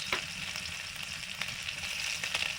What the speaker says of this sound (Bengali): এবারে পেঁয়াজ ক্যাপসিকাম পনির এগুলো ভেজে নেব